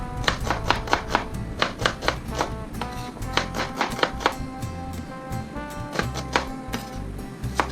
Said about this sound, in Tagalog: maghihiwa muna tayo ng ating panggisa